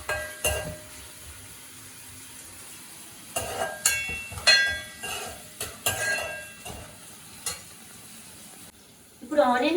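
Onions frying in a pan for a mutton fry with semi gravy, heard as intermittent sizzling bursts with stirring and clinks of a utensil against the pan, quiet stretches in between and a louder sizzle at the end.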